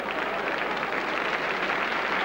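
A football stadium crowd at a 1981 Chelsea versus Grimsby Town match applauds a player's skilful play with steady, dense clapping and murmur throughout, heard at a distance as a broad, even wash of sound.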